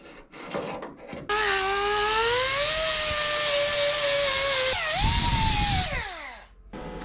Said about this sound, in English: And then I'm going to take a flap wheel all the way around it.